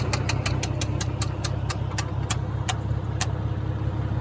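An IH 706 tractor engine runs at a steady beat while baling hay with a New Holland 273 baler, a low rumbling drone punctuated by a regular series of sharp mechanical clacks.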